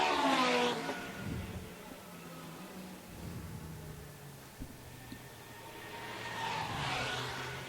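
Onboard a race car lapping the wet, slippery Silverstone circuit in a 24-hour race: a continuous engine drone that swells at the start and end with a roar, steady and fairly loud, no talking.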